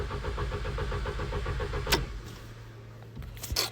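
A Ford Fiesta engine cranks repeatedly without catching, the starter motor's rapid rhythmic churning running close and steady before cutting off, followed by a few clicks and a brief faint whir.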